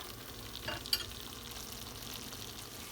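Curry chicken liver simmering in a pot with freshly added onion and pepper, giving a quiet, steady sizzle with a soft stir or clink near the start and no talking.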